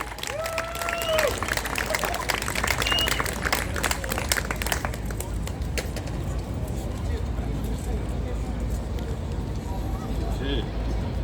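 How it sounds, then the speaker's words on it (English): Outdoor applause and cheering from a crowd at a Palestine protest in Auckland City, loud at first with whistles and shouts, then easing into a softer murmur of clapping amid open-air street noise. "Big round of applause"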